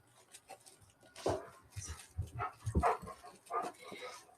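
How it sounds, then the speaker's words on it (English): A dog yips and whimpers in short bursts nearby, mixed with quiet human voice sounds. "You guys hear my dog?"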